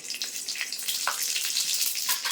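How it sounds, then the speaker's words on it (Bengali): Bay leaf, dried chilli, radhuni and cumin crackle as they fry in hot oil in a kadai for a tempering. The sizzle is soft and continuous, with small spitting pops, and no voice is heard. "দিয়ে ফোড়নটা একটু ভাজা ভাজা করে নেবো"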